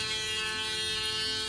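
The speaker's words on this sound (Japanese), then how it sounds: "シェイバーのお話したいと思います" A mains-powered electric shaver runs close by with a continuous, even buzzing drone and no pauses or speech.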